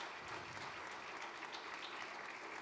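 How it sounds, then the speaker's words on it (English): An audience at a conference closing session claps in a dense, steady round of applause that fills the whole short stretch at a low, distant level, with no voices on top. "Please give them a warm round of applause."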